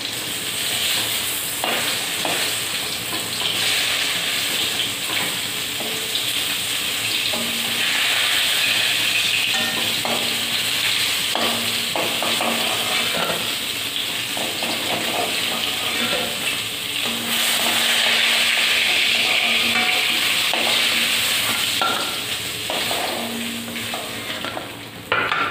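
Mrigel fish fry in hot oil with a continuous loud sizzle and hiss, close up, while a spatula occasionally scrapes and clinks against the pan, no one speaking.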